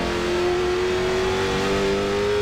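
A CARS Tour late model stock car engine in the iRacing sim holds a loud, steady high-revving drone, the pitch creeping slightly upward as it accelerates, continuous and close without any talking.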